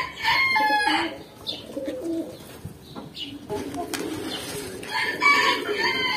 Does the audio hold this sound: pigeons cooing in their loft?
yes